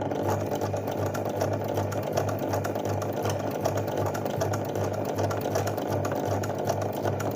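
A sewing machine zigzag-stitching embroidered lines through thick fabric, its motor humming in a fast, even rhythmic chatter that runs steadily throughout without any voices.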